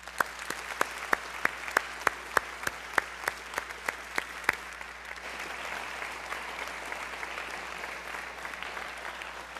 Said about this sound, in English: let's give a big round of applause for Mr.